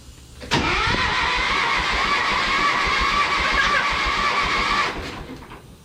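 A tractor engine outdoors starts with a sharp crank, then roars at a loud, steady idle for about four seconds before easing off.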